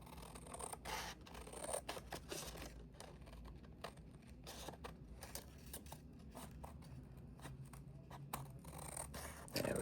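Scissors trim pressed paper ephemera for a junk journal, a run of close, quiet snips and soft scratchy rubbing, with no talking.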